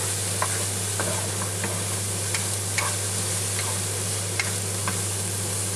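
Bacon sizzles and renders its fat in a pan, a steady close hiss dotted with sharp crackles and pops over a low constant hum, with no talking.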